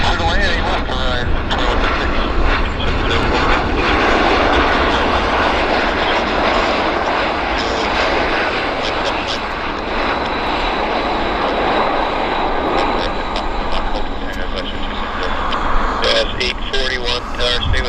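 A jet airliner touches down at Vancouver airport, its engine roar loud and sustained throughout, with radio chatter and voices faintly audible beneath the noise.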